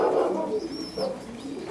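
Pigeons coo softly and repeatedly in a loft, a low murmuring call with a faint higher chirp mixed in, close by and steady throughout.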